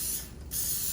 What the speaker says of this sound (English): extra virgin olive oil spray.